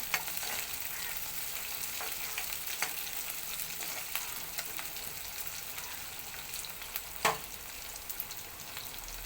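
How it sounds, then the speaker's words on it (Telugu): Onions and crushed garlic fry in a pan with a soft, continuous sizzle, broken by occasional light clicks and one sharper scrape of a utensil; fairly quiet and close. "ఉల్లిపాయలు ఇప్పుడు మగ్గాయి కదండి ఫ్రై అయ్యాయి"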